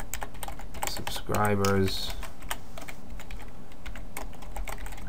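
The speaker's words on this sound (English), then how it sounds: "I apologize, I'm not the fastest typer in the world." Close, steady clatter of typing on a computer keyboard runs throughout, with a short spoken word partway through.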